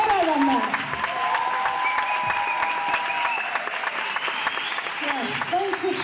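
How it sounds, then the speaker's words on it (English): An audience applauding at a youth election training event: sustained clapping from a room of people for several seconds while a voice speaks over it. "I want us to give them a warm round of applause, of appreciation."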